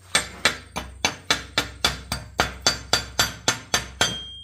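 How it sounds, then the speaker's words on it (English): A hammer chips welding slag off steel in a fast, even run of about fifteen sharp metallic strikes, each ringing briefly, close and loud with no talk. "Just take a hammer, chip this slag off that goes underneath."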